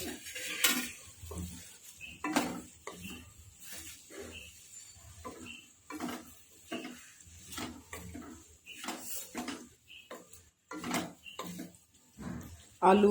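Potatoes stirred into a spice masala in a pan: scraping and clinking of a spoon against metal in irregular strokes, with soft sizzling underneath and someone talking throughout.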